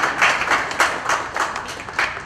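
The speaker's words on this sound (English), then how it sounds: "I think we should give a clap." Audience at a literary festival session clapping after a reading, a dense, close round of applause that pulses with a few swells and holds steady throughout.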